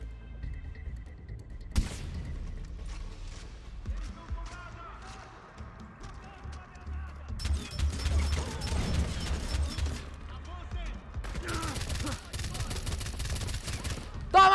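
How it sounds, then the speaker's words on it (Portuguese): Gunfire in the video game Far Cry 4 comes as two long, dense bursts of rapid shots, with a single sharp shot earlier. Someone talks at points through the clip. "Tiro!"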